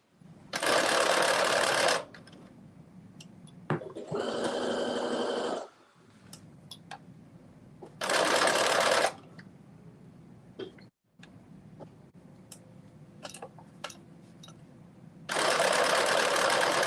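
Sewing machine stitching ruffles onto a kaftan, running in loud bursts of a second or two separated by pauses with light handling noises, close up and without talk.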